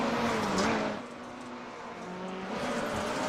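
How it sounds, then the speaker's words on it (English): Rallycross race cars rev their engines at the start of a race at Winton, Australia, with loud, high-pitched engine notes rising and falling together in a close, continuous roar. "As the revs are up, Eric Dubois will miss the start"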